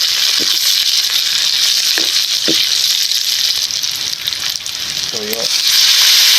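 Pork sizzles steadily in a hot pan for a Filipino pork gisantes dish, a loud continuous fry broken by a few scraping stirs, with a brief voice near the end.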